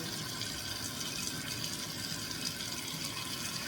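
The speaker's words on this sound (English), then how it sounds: "So we're going to turn this water on" Cold kitchen tap water running steadily into a sink while cooked rice is drained of its starchy water; a constant soft rushing stream, fairly quiet and alone with no talk.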